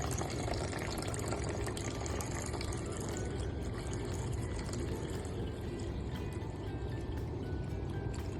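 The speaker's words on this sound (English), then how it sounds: "when we pour the water into the river" Water pours steadily into a model river of an early flood detection and avoidance system, a continuous rushing, splashing wash that stays loud and even throughout with no voices.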